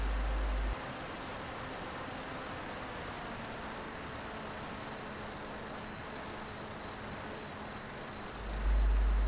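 A Quanum Overlord RC plane's electric motor hums steadily at reduced, roughly quarter throttle, a constant moderate drone against a headwind with wind noise and no talking.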